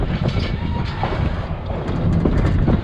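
Riding aboard a Virginia and Truckee Railroad train, a historic line built in 1869, with a steady close rumble of wheels on the track, faint clickety-clack and wind buffeting throughout, no voices.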